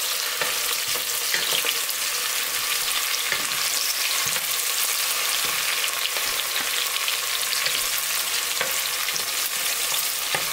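Garlic and onion brown in a pan for a beef stew with cabbage, giving off a dense, steady hiss of sizzling with faint crackles throughout, close and uninterrupted by voices.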